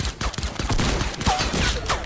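Dense, rapid bursts of gunfire crackle continuously in a Fortnite Battle Royale match in Blitz mode, with overlapping shots forming a loud, unbroken fusillade.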